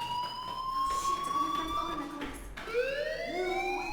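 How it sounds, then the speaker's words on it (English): A school fire alarm in the Life Is Strange video game, a steady electronic wailing tone that sweeps upward and restarts, loud and continuous, with faint voices under it. "do you hear that fire alarm?"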